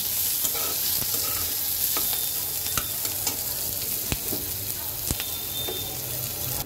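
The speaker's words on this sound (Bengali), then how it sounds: "এখন আমি পেঁয়াজটাকে একটু ভেজে নেব লাল লাল করে।" Chopped onion and green chili with black cumin frying in hot oil, a steady close sizzle with intermittent sharp crackles and occasional stirring scrapes throughout.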